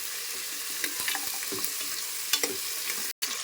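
Fresh goat trotters for paya being stirred in hot oil in a pan, a steady close sizzle with light scraping stir strokes scattered through, then a brief cut to silence near the end; no voices.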